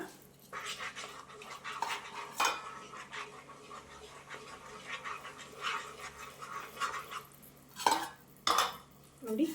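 Spoon stirring Mysore pak sugar syrup in a pan, soft repeated scraping and clinks against the metal with a few sharper knocks, faint and close, over a low steady hum.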